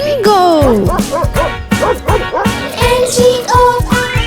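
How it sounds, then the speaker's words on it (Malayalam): Loud, cheerful yips and bow-wow barks from a farmer's dog named Bingo run through a children's song, mixed with singing voices and bright music throughout. "ഒരു നായ ഉണ്ടായിരുന്നു കർഷകന്, പേര് അതിന്റെ ബിങ്കോ."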